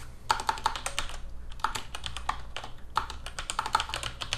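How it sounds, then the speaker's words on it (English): Fast typing on a computer keyboard, with clustered key clicks in quick bursts and brief pauses, close and clear over a low steady hum, no talking. "we'll just type in len for length self dot custom"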